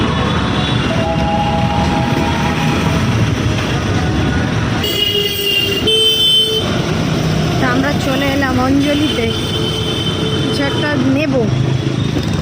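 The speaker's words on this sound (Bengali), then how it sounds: "মেট্রো যাচ্ছে" A metro train running past near Garia station in Kolkata, a steady loud rumble with high metallic whines and squeals, mixed with nearby voices.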